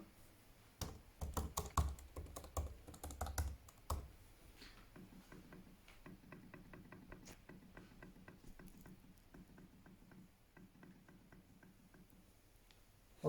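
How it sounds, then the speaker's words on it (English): Steady typing on a MacBook Pro 14-inch M1 Pro laptop keyboard, a few louder clacky keystrokes up front, then a lighter, even patter of keys continuing close by. "the keyboard touch and its sound is also very good"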